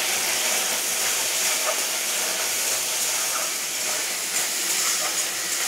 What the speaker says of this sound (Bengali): তেল গরম হয়ে গেছে, এবারে ছোলা কটা অল্প ভেজে নেব হালকা করে